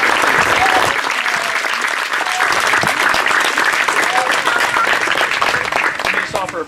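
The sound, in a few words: applause after baptisms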